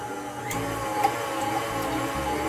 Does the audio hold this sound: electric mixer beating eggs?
yes